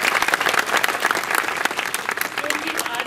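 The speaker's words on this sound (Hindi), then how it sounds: "इस दिन पे हमें हमारे इंडिया के वाटरमैन से मिलने का मौका मिला, उसके लिए ढेर सारी तालियां बजाइए।" An audience at a community quiz event in Ulhasnagar breaks into lively applause, dense clapping close by with crowd noise and voices mixed in.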